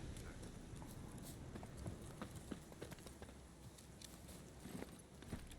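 Horse hooves clip-clop at a walking pace in The Witcher 3 video game, a quiet, steady series of clops over a soft background hiss.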